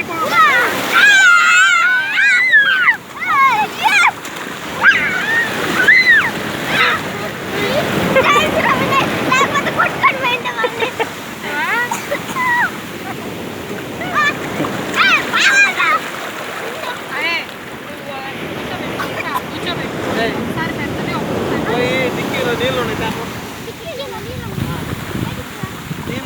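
Sea waves wash and splash at Alagayapalem beach, a steady broad surf rush that runs throughout as several voices, including children, talk and call out over the water.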